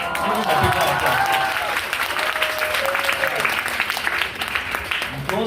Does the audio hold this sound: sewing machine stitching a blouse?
no